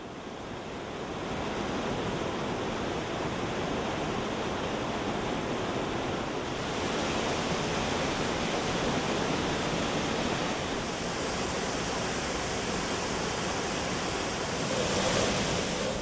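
Waterfall in the Kolli Hills pours continuously as a dense, broadband roar, steady and loud throughout with slight swells and no voices.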